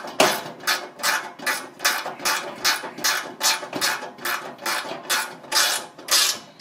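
Ratcheting clicks from a screw being tightened with its lock nut on the blade assembly of a Lux Intégrale, about a dozen regular mechanical strokes in steady rhythm, close and alone with no voices.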